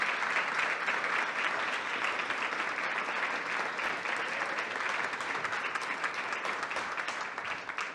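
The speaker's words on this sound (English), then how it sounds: "And that was a lot of applause." Sustained applause fills a school board meeting room as students and teachers are honoured, a dense, even wash of many hands clapping steadily without pause.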